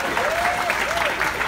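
Brief burst of crowd applause at a game-show style event, clapping under a voice that talks or calls out over it.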